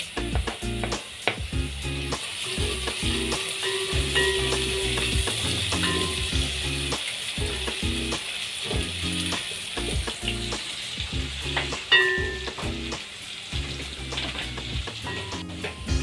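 Onions, garlic and ginger frying in a pan for a lentil dish, a loud continuous sizzle with frequent scraping and stirring strokes throughout.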